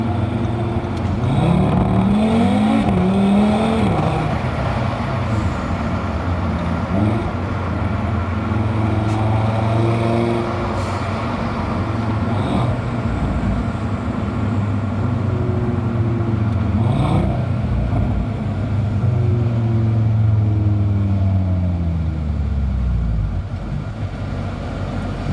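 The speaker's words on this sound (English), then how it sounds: "just stomp the accelerator as the car is shifting down a gear." A car engine revs hard and steadily during a rolling anti-lag downshift with the accelerator stomped, its pitch sweeping up and down several times, loud and close throughout, with no voices.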